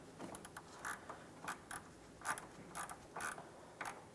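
A ratchet clicks in short bursts tightening a 19mm radiator drain plug on a 2004-2008 Pontiac Grand Prix 3.8L V6, quiet, close, irregular clicks with brief pauses between.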